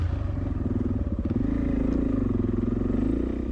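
Suzuki DRZ 400 dirt bikes ride a dirt trail loop at Dove Springs, the steady mid-pitched engine drone close and continuous with a rapid pulsing throb and clattering chain and suspension noise throughout.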